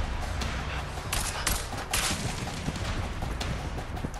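Dense, continuous gunfire from hired assassins in the co-op prison-escape game A Way Out, a loud rattling barrage of overlapping shots with sharper bursts throughout, with no voices.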